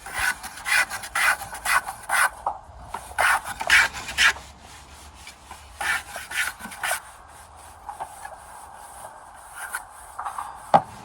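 Repeated rasping strokes of a hand plane shaving a wooden window glazing bar, close and fairly loud, in uneven bursts with short pauses between passes.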